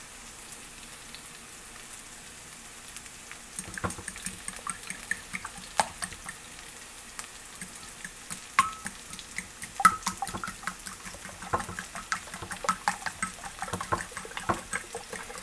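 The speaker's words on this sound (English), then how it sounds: "I'm going to beat these wonderful 3 eggs" Three eggs beaten side to side in a bowl with a whisk or fork, a quick irregular run of light clicks and taps starting a few seconds in, fairly close and steady, with no talking.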